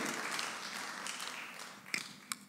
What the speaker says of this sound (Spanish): Denle un fortísimo aplauso a nuestro Señor.